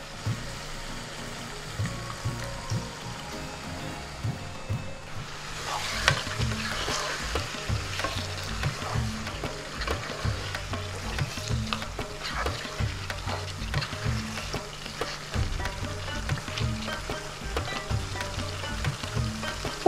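Mutton kosha sizzles and crackles steadily in a hot pan, with stirring and a sharper hiss when water is added partway through, continuous and close.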